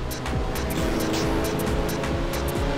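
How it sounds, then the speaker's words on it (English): Race cars roar in Ridge Racer 6 as a nitrous boost fires, with a steady, loud engine drone, brief tire squeals and cars whooshing past close by. "Someone fired off some nitrous."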